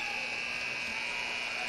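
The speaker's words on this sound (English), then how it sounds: "A buzzer stuck" A stuck buzzer in a basketball arena during a high school boys state championship game drones continuously, a steady electric buzz that never varies. Crowd noise sits faintly behind it.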